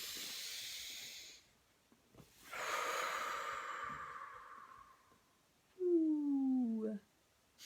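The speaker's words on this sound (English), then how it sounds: "Deep breath." A person draws a long, deep breath in and then sighs it out slowly, close and breathy, followed by a brief low voiced sound.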